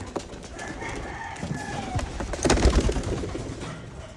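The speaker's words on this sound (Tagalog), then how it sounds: "Ayun sila mga kalapatids." Several pigeons coo softly outdoors, with low throaty calls repeating in a loose rhythm and growing fuller near the end.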